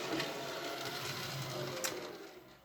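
A faint, steady whir from the small electric motor of a Dapol N gauge model train running slowly, a continuous low hum with a soft tick or two and no voices.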